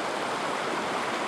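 The Crystal River, a clear mountain stream at a camping spot, rushes in a steady, close, full wash of water with no break or voice over it.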